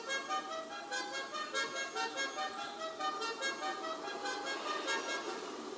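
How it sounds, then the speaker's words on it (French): Zentorno supercar horn in a video game, sounding in a steady series of repeated honks over a constant engine hum, loud and close with no voices. "J'ai oublié de vous montrer le klaxon."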